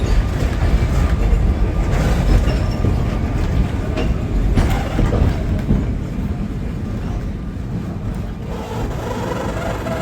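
A Mallorca train rumbles loudly and steadily close by, with rolling wheel noise and faint clacking as it pulls into the station, no voices.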